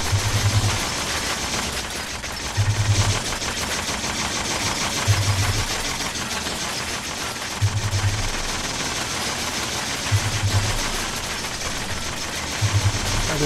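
Enemy gunfire in the video game Fallout 4, a sustained rattling barrage under game ambience, with low thumping bursts recurring roughly every two and a half seconds throughout.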